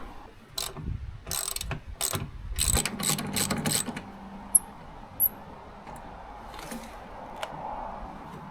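Ratchet wrench removing a cover to reach a hydraulic filter on an off-grid hydro turbine setup, several bursts of rapid clicking in the first four seconds, then a couple of sharp metallic ticks, close with no talk.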